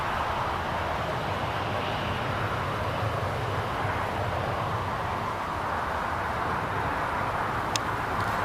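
A jet airliner rolls along the runway at a regional airport, a continuous broadband engine roar heard from some distance, steady in loudness throughout with no talking.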